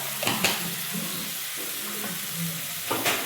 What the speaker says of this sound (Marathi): हे आपल्याला छान परतून घ्यायचं